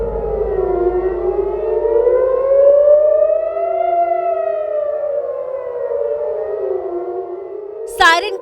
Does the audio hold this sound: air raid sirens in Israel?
yes